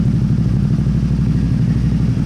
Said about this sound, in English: Letting the engine warm up.